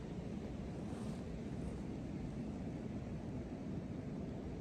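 Strong late-season wind buffets the microphone in a constant, dense roar while outdoors bowhunting, with no voices.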